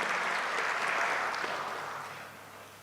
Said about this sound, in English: Kindly welcome them with a hand of clap.